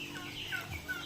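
Young Rhode Island chickens in a backyard flock at feeding time give off a continuous, close chorus of soft clucks and chirps that overlap without pause.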